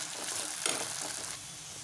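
Potato pieces sizzle in a pan over low heat as they are stirred, a soft continuous frying hiss with a brief scraping stir, close and moderately quiet.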